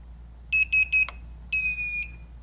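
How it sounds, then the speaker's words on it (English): A Solaris infrared barrier emits three quick, high electronic beeps followed by one longer sustained beep, loud, clean and close, with nothing else audible. "The three quick beeps mean alignment mode."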